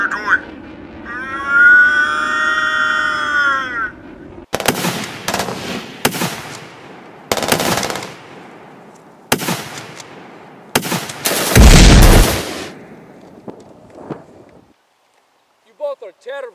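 Several sharp, loud gunshot-like bangs ring out in a rough series during a tense action scene, following a stretch of tonal, whining sound, with a dense burst of blasts near the end before things go quiet.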